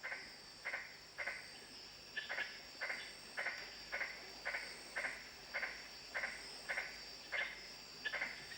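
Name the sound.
tree frog calling among sandstone cliffs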